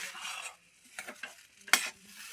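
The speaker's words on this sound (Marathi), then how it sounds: "असं ह्याला मिक्स करून घेऊ छान ह्याला शिजू देऊ" Pea mixture for breakfast nuggets being stirred and cooked in a pan, with a few scraping stir strokes and soft sizzling in short bursts, close and fairly quiet, no talking.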